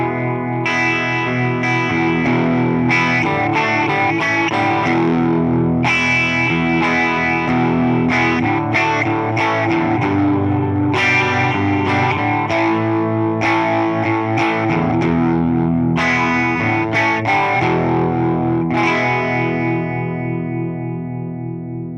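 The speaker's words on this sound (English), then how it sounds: "Chorus Mono, inspired by the Boss CE5 Chorus, an effect used on nearly every song from the 1980s and revered for its sparkling crystalline sound" Electric guitar played through a mono chorus effect modeled on the Boss CE5 on a Fender Tone Master Pro, shimmering and slightly distorted, a continuous busy run of loud, near strummed chords and notes with no voices.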